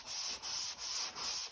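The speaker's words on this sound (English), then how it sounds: "you're gonna love sanding with these ones" A flexible sanding block rubs back and forth over primer on car bodywork, four even strokes in a steady rhythm, close and fairly quiet, with no voices.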